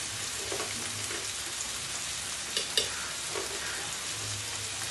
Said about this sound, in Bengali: দিয়ে মশলাটা ভালো করে ফ্রাই করবো যাতে কাঁচা গন্ধটা চলে যায়